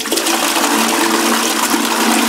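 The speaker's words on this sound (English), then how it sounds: "Do Australian toilets flush the opposite way?" A toilet flushing in a hotel room in Australia, a steady loud rush of water that fills the whole short stretch, close by and alone with no talk.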